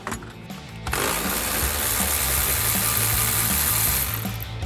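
A 15mm socket on a ratchet loosens a shock bolt on a Polaris Ranger, giving a steady, close, whirring clicking that runs for several seconds after a few quieter ticks.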